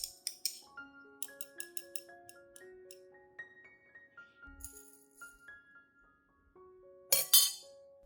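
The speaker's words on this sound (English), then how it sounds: "Prepare a clean glass cup, then add 1 tablespoon of coffee grounds into it." A spoon clinks against a clean glass cup as a tablespoon of coffee grounds goes in, a scatter of bright taps and rattles over a soft melodic background, ending in a louder clattering burst.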